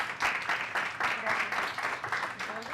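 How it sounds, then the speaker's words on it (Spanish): Steady applause from a design conference audience, a dense wash of clapping that swells in waves and continues without pause. "les pido un aplauso, por favor, para ellas"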